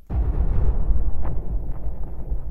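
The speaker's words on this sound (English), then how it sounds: "Boom! Explosions!" Explosions in the space combat game Void Destroyer burst out loudly from the start, with a heavy low rumble that stays strong and rolling throughout, plus a brief brighter crack partway through.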